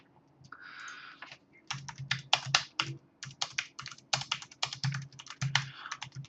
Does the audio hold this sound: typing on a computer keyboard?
yes